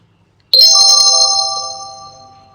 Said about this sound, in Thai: เสียงข้อความแจ้งเตือนจากโทรศัพท์มือถือ ก็ดังขึ้นซะก่อน